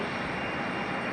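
An Aeromexico jet airliner at Raleigh Durham airport gives off a steady, loud, broadband engine roar that holds level for the whole short stretch, with no voices.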